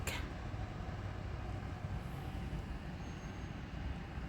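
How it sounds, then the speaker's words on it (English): Street traffic drifts in outside a screened window of a Korean apartment, a low, continuous rumble of passing vehicles that stays faint and steady throughout. "We can hear the traffic."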